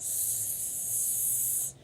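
A person makes a steady, sharp hissing breath with their voice, imitating a firecracker rising into the sky; it is loud and close, holds for under two seconds, then cuts off.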